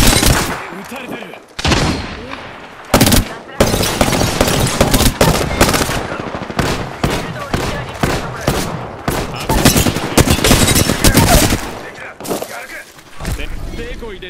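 Automatic gunfire in the Apex Legends video game: loud, dense bursts of rapid shots that run almost continuously, broken by a few brief pauses, with in-game voices speaking over the combat.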